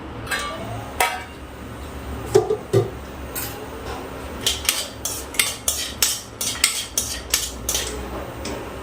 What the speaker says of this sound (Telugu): ఇదే ప్యాన్లో గీ వేసుకొని జీడిపప్పులు ఫ్రై చేసుకుందాం